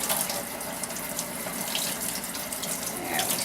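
Tap water running steadily into a bath while a kitten is rinsed of shampoo, a continuous close hiss and splash with no talking over it.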